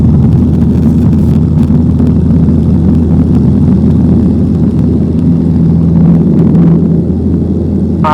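Piper PA28 Warrior light aircraft taking off, heard from inside the cabin as a loud, steady engine drone with constant low hum and wind rush throughout, no voices.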